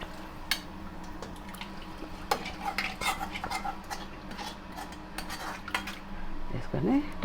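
Rice is folded into mutton curry in a metal pot, with a spoon scraping and clinking against the sides in uneven, close strokes. The sound is fairly quiet, and there is a soft background hum.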